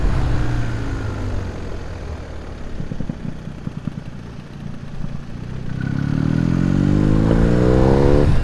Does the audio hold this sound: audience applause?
no